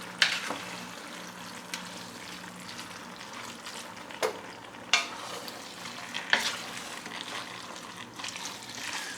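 Quiet stirring of Brunswick stew with fire roasted tomatoes in a pot, a soft ongoing simmer broken by a few sharp scrapes and clinks of the spoon against the pot.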